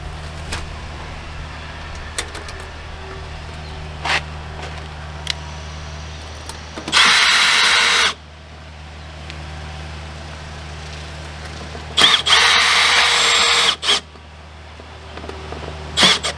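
A power drill drives black self-tapping screws in two sustained whirring bursts, the second with a brief pause partway through, close and loud over a steady low hum and a few scattered clicks.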